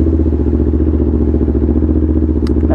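A Kawasaki Ninja 400 idles through a cold-start warm-up, its engine chugging in a loud, close, steady low pulsing rhythm with a faint clatter, plus a brief high click near the end.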